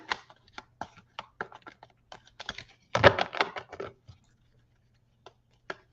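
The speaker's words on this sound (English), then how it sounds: "give these a quick shuffle." A deck of oracle cards being shuffled: soft scattered clicks and taps, then a brief denser flutter of cards, faint and close in a quiet room.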